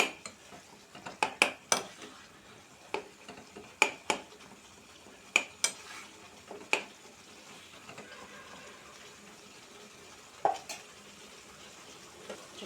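A spoon clinks and scrapes against a pan while tomato pachadi is stirred, giving sharp, irregular taps over a faint, quiet simmer, with no talking.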